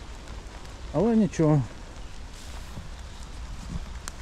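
Steady rain falling outdoors on a wet spring day in the woods while hunting for morel mushrooms, a soft continuous patter with a few faint drops, under a brief spoken phrase from a nearby man.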